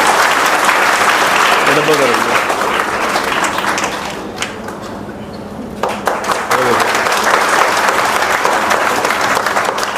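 An indoor audience gives loud, sustained applause for Rahul after his exam marks are announced, the clapping dipping briefly partway through before surging again, with a voice talking over it.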